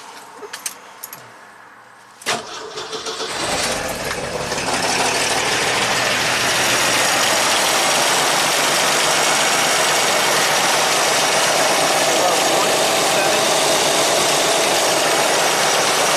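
A 1985 Jeep CJ-7 Renegade engine cranks after a few light metallic clicks, catches and settles into a steady, loud, broadband idle that runs close and continuous, with no talking.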